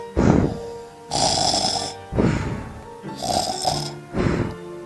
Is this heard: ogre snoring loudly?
yes